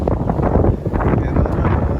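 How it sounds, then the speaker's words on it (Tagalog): Strong wind buffets the microphone outdoors at a pigeon loft during a racing-pigeon training toss, a loud, steady low rumble with gusty swells that runs through the whole stretch. "Kaya lang ang lakas ng hangin."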